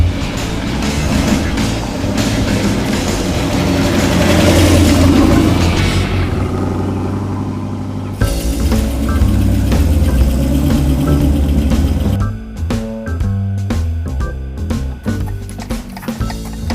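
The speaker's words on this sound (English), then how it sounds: "something that sounds like the wheel's gonna fall off" A car with a loose rear wheel drives along with a loud, steady engine rumble and road drone, changing in character partway through, with rhythmic thumping and knocking toward the end.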